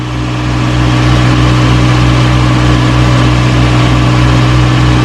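The 1937 Morris 8 engine runs at a steady, loud idle close by, a dense, even low rumble with a constant hum and no changes in speed.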